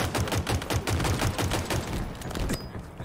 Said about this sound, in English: there's a limit to how far this gun goes